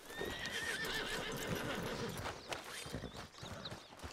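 Horse hooves clip-clopping and whinnying in the Western open-world game Red Dead Redemption 2, steady busy hoofbeats with neighs over a dense game soundscape.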